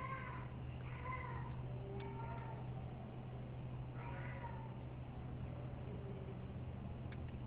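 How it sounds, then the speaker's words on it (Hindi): A cat crying and meowing at night in an upscale residential area, several drawn-out wails spaced a few seconds apart, fairly distant over a constant low hum. "सिर्फ इस बिल्ली के रोने की आवाज़ को समझें"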